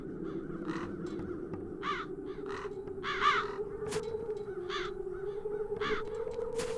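Several crows caw from a video game (The Dark Eye: Chains of Satinav), their harsh calls coming in short repeated bursts over a steady ambient drone, fairly close and moderately loud.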